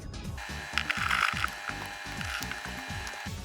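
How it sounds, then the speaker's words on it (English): A screw being driven into a plastic ceiling exhaust duct adapter for an air conditioner, giving a rapid regular train of ratcheting clicks and creaks with a faint whine above, close and fairly quiet. "now we can secure each screw"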